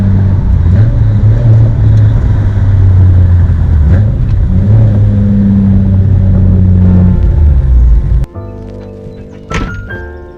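A Nissan Skyline R32 GTR drives along with a steady low engine drone and some rumble, then the engine sound cuts off abruptly near the end, leaving a quieter scene with a few light clicks and knocks.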